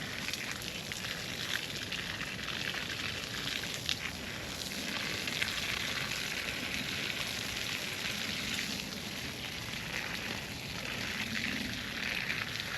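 Water sprays and patters steadily onto soil around a plant in a Filipino backyard garden, making a continuous soft hiss at a moderate distance.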